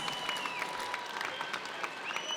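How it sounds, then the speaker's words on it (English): An arena crowd applauds after a professional boxing main event, a dense patter of clapping with a few scattered cheers, moderately distant and heard alone. "a big round of applause to both"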